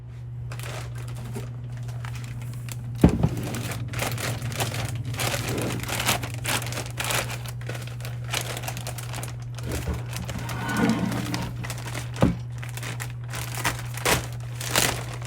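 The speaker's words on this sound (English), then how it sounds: "Let's go ahead and get this out of the packaging." Holley Hi-Ram big block Chevy intake manifold pulled from its packaging, with steady crinkling and rustling of wrapping material over a constant low hum, plus a few sharp knocks and handling thumps throughout.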